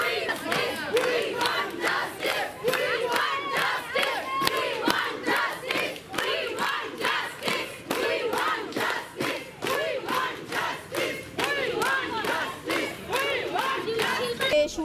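Outdoors at a night protest march in Barasat, a large crowd chants slogans in unison, loud, rhythmic bursts of many voices repeating in a steady call-and-response cadence that continues without pause.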